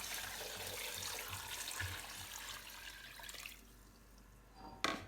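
Water gushes into a cooking pot for mutton yakhni in a strong, steady pour for a few seconds, then quiets to a softer trickle, with a brief splash near the end.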